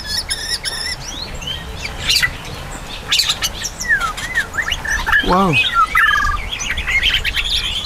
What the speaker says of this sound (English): The white-rumped shama sound different for males and females, right?